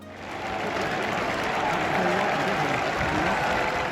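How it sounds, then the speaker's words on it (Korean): Stadium crowd at a Tottenham home match rising in a standing ovation for Son Heung-min, a dense sustained roar of applause and cheering that swells and holds steady throughout. "손흥민이 지나가는 길마다 관중들은 일어서서 파도타기 기립박수로 활약의 갈채를 보냈습니다"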